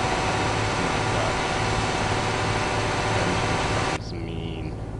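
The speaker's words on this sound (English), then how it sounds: "Engine sounds mean." A heavy truck engine drones in Euro Truck Simulator at high road speed, a steady, loud low rumble with broadband noise that drops abruptly to a quieter hum near the end.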